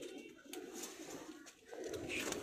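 Pigeons coo softly in a loft of flying pigeons, low murmuring calls repeating at a modest distance with no talk over them.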